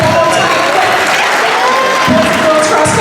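Crowd applause and cheering at a high school all-sports end-of-year celebration, steady clapping from a large audience filling the space, loud and close throughout, with occasional voices mixed in.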